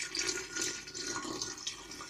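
Water-diluted sulfuric acid pours from a canister in a steady, close splashing stream that runs without a break and stays fairly even in level.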